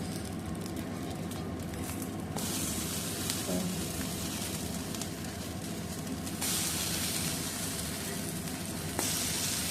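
A sprouts dosa cooks on a dosa griddle, giving a steady, close hiss of sizzling batter that stays even throughout, with a few small brighter pops and shifts in intensity.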